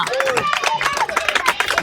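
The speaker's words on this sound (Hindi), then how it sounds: "तालियां।" Scattered clapping from a small group at a birthday celebration, fairly close, mixed with chatter and voices.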